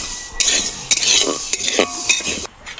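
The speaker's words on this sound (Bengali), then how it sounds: "তাহলে আমি এই ডালটি ভেজে নিই ভালোভাবে, আপনারা দেখতে থাকুন।" Lentils dry-roasting in a pan without oil, a spatula scraping and stirring them in quick uneven strokes, with close scratchy rattles and clinks against the metal.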